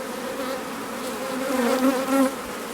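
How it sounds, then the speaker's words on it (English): Honeybees buzz close up while being gently pushed aside by hand at a hive frame, a steady droning hum that swells briefly louder near the end. "You can quite happily just move the bees with your fingers, they won't sting."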